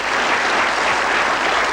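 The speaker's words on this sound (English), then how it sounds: "Give them a nice round of applause." A television game show studio audience claps loudly in a dense, continuous burst of applause.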